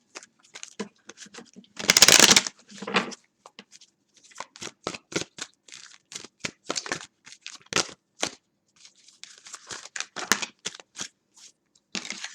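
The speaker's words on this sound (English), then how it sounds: "So I'm going to take this deck right here and shuffle them." A tarot card deck is shuffled up close in a series of quick papery riffling bursts, the first loud and the rest lighter and rhythmic, separated by short pauses.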